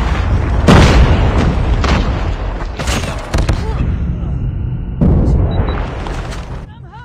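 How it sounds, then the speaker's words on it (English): A predator missile strikes in a first-person shooter video game, loud booming blasts with rumbling decay and a second heavy impact later, amid gunfire. "hostile predator missile inbound"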